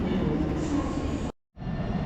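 Train noise at a station in Morocco, a steady broad rumble of rail traffic close by that drops out abruptly for a moment before resuming.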